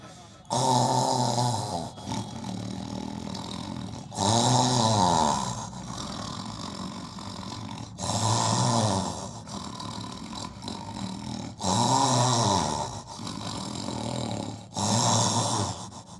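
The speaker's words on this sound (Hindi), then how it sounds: "वो खर्राटे पर खर्राटे ले रहा है" Loud, deep snoring repeats in slow, regular cycles, each rumbling inhale followed by a quieter pause, close and unaccompanied by talk.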